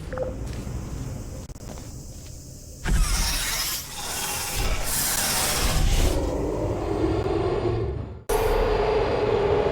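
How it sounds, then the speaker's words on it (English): The elevator mechanism in the video game Portal 2 whirs and rumbles steadily for about ten seconds, with clanks and shifts in tone as it moves and one abrupt cut near the end. "Waddle over to the elevator and we'll continue the testing."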